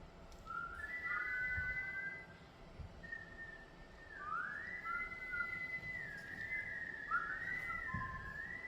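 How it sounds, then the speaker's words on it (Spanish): A person whistles several wavering, melodic phrases in a theatre-arts gathering, fairly close and clear over a low murmur of room noise. "¿Alguien puede silbar?"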